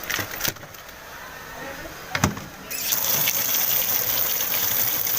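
Tap water gushes steadily into a bowl of chicken being cooled after coming out of the fridge, the flow growing louder and fuller partway through, with a few sharp clinks early on.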